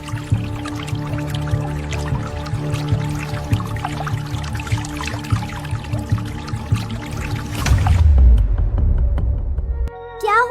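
Water poured and trickling with small splashes and drips, continuous and close, then a louder gush and a sudden drop to near silence near the end. Bright tones sound over the water.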